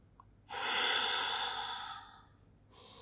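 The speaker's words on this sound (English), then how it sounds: "For a moment, catch your breath. Inhale. Two more breaths." During an advanced Pilates workout, a single long, heavy exhale or sigh, close and breathy, followed by a softer intake of breath after a brief pause.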